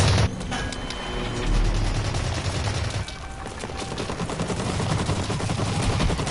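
Sustained automatic gunfire in a PS4 first-person shooter, steady rattling bursts with mechanical clatter and a brief dip midway, loud and continuous throughout.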